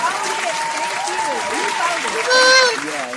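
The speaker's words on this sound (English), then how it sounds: "I want to clap it up for the Black men that did vote" An audience at a live talk-show stream applauds and cheers, with someone speaking over the clapping and one voice calling out louder near the end.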